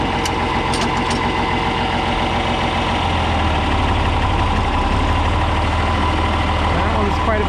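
A John Deere 4010 tractor engine runs steadily in seventh gear, a loud, continuous diesel drone with a deep rhythmic throb that shifts slightly partway through, with no voices over it.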